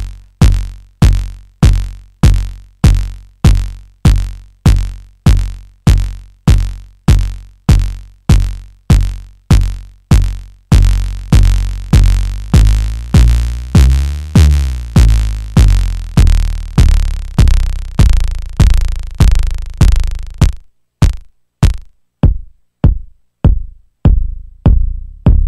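Elektron Analog Rytm kick drum on its Plastic synthesis model, a run of loud, punchy synthetic kicks in steady succession, then a sustained booming tone with pitch sweeps before the individual hits return, all alone without talk.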